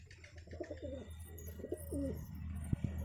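Pigeons kept for sale coo softly in a few short phrases, close and fairly faint over a low background hum, followed by two brief knocks.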